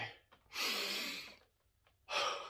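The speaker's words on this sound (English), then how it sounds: "it's the Wim Hof breathing method" Wim Hof method breathing: a long, deep, airy inhale followed by a release, then another strong inhale begins, close and fairly quiet.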